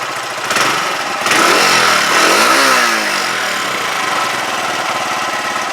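A Huoniao HN125 motorcycle engine idles, revs up once, then falls back slowly toward idle, a close, moderately loud motor sound.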